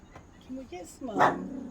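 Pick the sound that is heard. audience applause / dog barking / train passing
dog barking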